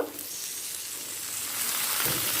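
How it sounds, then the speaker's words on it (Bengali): Chopped onion frying in oil in a pan gives a brief, even sizzle that swells slightly toward the end, moderately quiet with no voices. "পেঁয়াজটা হালকা লাল করে ভাজা হয়ে গেছে"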